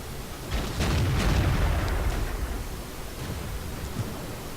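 A StuG III tank gun fires in World of Tanks, a booming blast rolling into a long, rumbling decay, with a few fainter thuds trailing after it.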